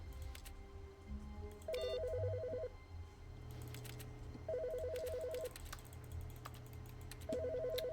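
Telephone ringing in the video game The Stanley Parable, an electronic ringtone pattern repeating three times at regular intervals over quiet background tones, with faint keyboard tapping.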